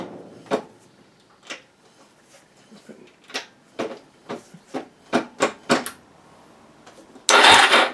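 A Suzuki DRZ400SM motorcycle left in gear has its wheel rocked back and forth, giving a series of short mechanical clunks and knocks that grow louder and closer together, ending in a brief burst of broadband noise.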